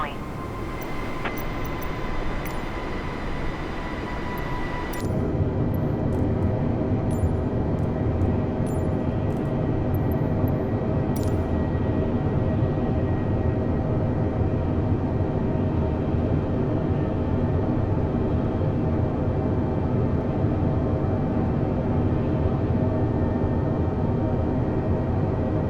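A Cessna in Microsoft Flight Simulator 2020 spools up for takeoff. A steady engine hum is followed by a sudden jump to a loud, sustained propeller drone with a constant, unbroken rumble.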